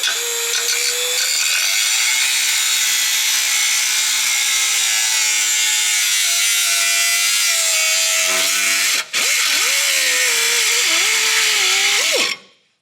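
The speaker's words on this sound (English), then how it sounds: "I'll just cut it through here." Power tool cutting through rusted sheet-metal body panels in the engine bay of a Holden VH, a loud continuous grinding whine with shifting pitch, briefly dipping once before cutting off at the end.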